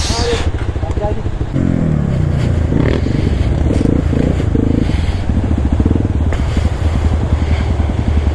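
A motorcycle ridden in heavy monsoon rain on an offroad trail, recorded from a bike-mounted GoPro: a steady engine drone with rumble and clatter from the ride, continuous and close, with speech mixed in.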